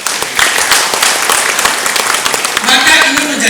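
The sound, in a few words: audience applause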